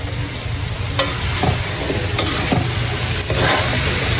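Chopped chayote being stirred in a hot cooking pan, a steady sizzle with several scraping strokes of a spatula at irregular intervals, close by and without voices.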